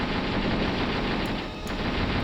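A T-62 tank in the combat game Steel Armor: Blaze of War fires into a trench, a loud, dense, unbroken burst of rapid gunfire lasting a couple of seconds.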